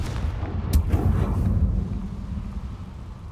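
The Confringo blast spell in the video game Hogwarts Legacy lands as a deep, booming explosion with a sharp crack near the start, then a long rumbling roar that slowly fades away.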